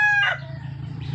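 A red rooster crows up close, a bright harmonic call fading quickly, followed by a low steady hum.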